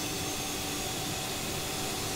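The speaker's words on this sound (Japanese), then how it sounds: "とりあえず2番エンジンからスタート。" Turbofan engine of a CRJ200 airliner spooling up in a flight simulator, a steady broadband whine and roar that holds level throughout, with no voices.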